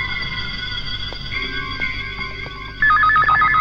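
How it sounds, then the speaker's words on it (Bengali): A phone rings with an electronic ringtone, a looping melodic tone that runs steadily at moderate volume under a movie scene and grows louder and sharper near the end. "এই সময় আবার কার ফোন?"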